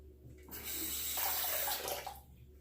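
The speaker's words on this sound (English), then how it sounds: "took me a minute to rinse the razor" A safety razor is rinsed under a running tap: water gushes loudly for about a second and a half between quieter moments, with splashing close by.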